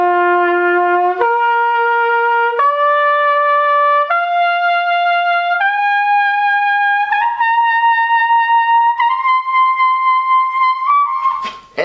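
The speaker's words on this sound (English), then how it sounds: "I'm going to play the series of all the notes on open" A valve brass instrument, played with no valves pressed, climbs its open harmonic series from the lowest note to the highest in clear sustained steps of about a second each, loud and close, alone without talk.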